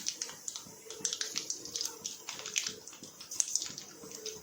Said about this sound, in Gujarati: તેલ ગરમ થાય એટલે તેમાં આપણે રાઈ નાખીશું થોડી આ રીતે।